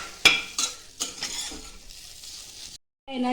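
Bitter gourd (karela) sautés in masala in a pan: a soft sizzle under several sharp scraping stirs of a spoon against metal, then a brief silence and renewed frying.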